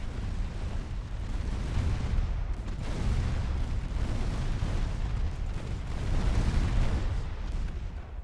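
Torpedoes launched from a warship in Ultimate Admiral Dreadnoughts, heard as a heavy, rumbling low roar of naval combat with distant booming bursts, sustained and dense, with no speech.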